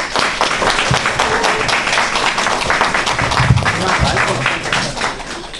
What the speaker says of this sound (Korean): 엄경 선생님을 힘찬 박수로 모시겠습니다.